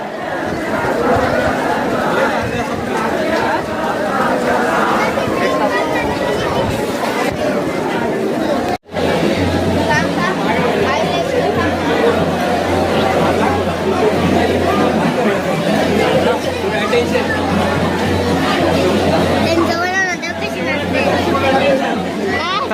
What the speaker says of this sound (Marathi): आज जाम गर्दी आहे